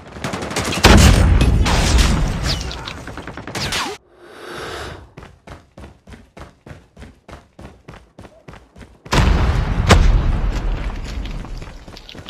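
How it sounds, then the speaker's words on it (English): A grenade explodes and guns fire in Call of Duty Mobile multiplayer: heavy booming blasts open and close the passage, with a rapid, evenly spaced string of loud shots in between. "Grenade out!"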